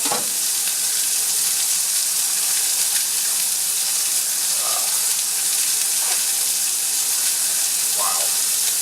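Brined boneless pork loin chops sear in very hot oil in a pan, giving a loud, dense, continuous sizzle with spattering that runs throughout, heard close and without talk.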